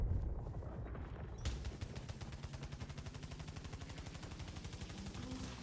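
Gunfire in the video game Returnal, a long rapid automatic stream of evenly spaced shots that runs without pause at moderate loudness.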